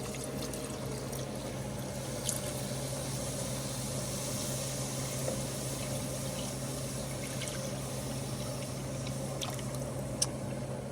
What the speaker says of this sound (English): we're going to be adding about 4 cups of cream here